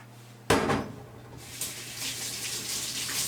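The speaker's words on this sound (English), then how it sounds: "let me rinse my hands off" A kitchen water tap turns on abruptly and runs steadily while hands are rinsed, a close splashing rush with a faint hum underneath and no talk.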